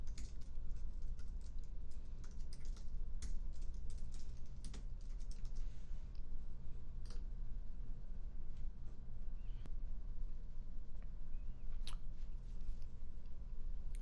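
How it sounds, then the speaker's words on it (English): Steady, quiet clicking of keys on a computer keyboard as text is typed into medication software, a continuous patter of light taps over a constant low background hum. "you can just type it over again"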